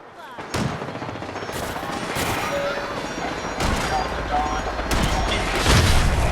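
Gunfire in a Fallout 4 firefight rings out in sharp, loud bursts, with several distinct shots and volleys spread over a dense background of game noise and voices.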